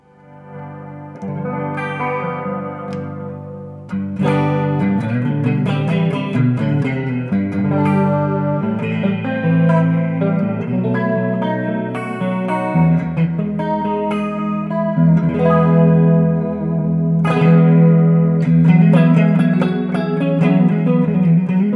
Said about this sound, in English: maybe a little echo and some chorus together